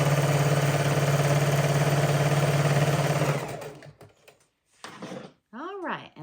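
A sewing machine stitches a four patch baby quilt block with a steady, close, even whir for just over three seconds, then stops; a few scattered clicks and a brief voice follow.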